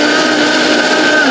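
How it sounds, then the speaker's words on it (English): A blender whirs loudly and steadily close by as it purées butter chicken sauce, a continuous motor drone with no pauses and no talk. "now I'm going to blend it and then strain it"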